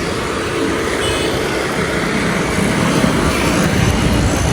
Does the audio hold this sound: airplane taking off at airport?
yes